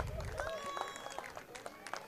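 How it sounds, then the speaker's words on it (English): Audience applause at the GCC 2023 opening ceremony for the AK Sanghvi Group, a soft, steady patter of clapping mixed under a voice and a tonal background. "A huge round of applause for the AK Sanghvi Group"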